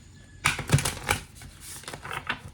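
Prairie Majesty oracle cards are shuffled and pulled by hand, giving a few quick riffling flicks and soft papery slaps in short bursts, close and fairly quiet with no talking.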